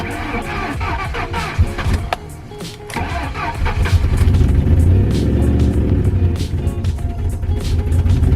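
A turbocharged Marauder's engine cranks and catches, then settles into a steady, rumbling idle, loud and close with some rattling.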